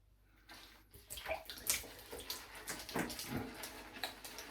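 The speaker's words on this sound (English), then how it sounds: "pour that soapy water into the basin" Soapy water pours and splashes into a basin during a wet shave, a steady close trickle with a few sharper splashes and no voices.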